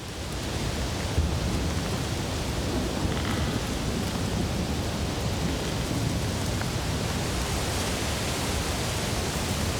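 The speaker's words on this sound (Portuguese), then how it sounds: "Wendy aperta Bo contra si para protegê-la de uma tempestade subtropical." Heavy subtropical rainstorm pouring steadily throughout, a dense, loud wash of rain with low thunder rumbling underneath and no voices.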